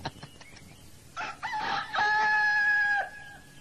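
A fighting cock crows loudly and clearly, a sustained cock-a-doodle-doo following a few short clucks and rustling, heard alone at close range.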